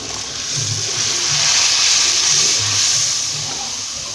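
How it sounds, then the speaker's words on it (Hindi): A cup of water goes into a pan of frying spices, turmeric, salt and ground coriander, for potato bhujia, and sets off a loud, steady steam hiss and sizzle that swells and then settles, close by, with no talking. "और 1 प्याली पानी डालेंगे ताकि मसाले की भुनाई अच्छी तरीके से हो जाए।"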